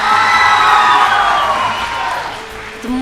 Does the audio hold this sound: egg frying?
no